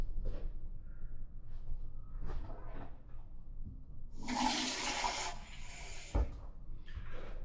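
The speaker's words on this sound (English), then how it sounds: "in the rice cooker I'm going to add my half cup of water" Half a cup of water pours into a rice cooker pot in a short, splashy burst of a couple of seconds, close and fairly loud, between quieter kitchen handling sounds.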